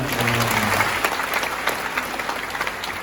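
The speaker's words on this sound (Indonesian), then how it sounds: "berikan tepuk tangan" An audience at a university lecture breaks into applause, a dense burst of clapping that stays loud at first and then thins into scattered claps as it tapers off.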